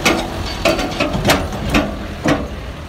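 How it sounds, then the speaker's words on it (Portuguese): On a cattle feedlot, a tractor pulling a feed wagon fills the troughs, giving off a rhythmic series of loud mechanical clanks and knocks roughly every half second over a low background rumble. "Agora eu vou gravar o trator com a carroça abastecendo os coxos."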